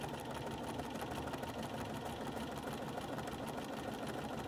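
A sewing machine runs steadily on a zigzag stitch, filling in letters on a quilt; the continuous whirring and rapid needle chatter holds an even level throughout, with no voices.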